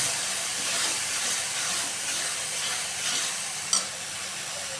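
Masala filling for stuffed bitter gourd roasting in a pan, giving a steady soft sizzle and hiss with light stirring scrapes and one brief sharper clink, moderately quiet and with no talk.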